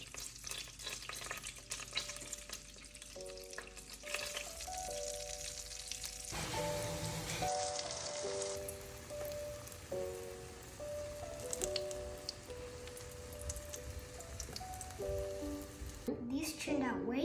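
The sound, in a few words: zucchini frying in butter and avocado oil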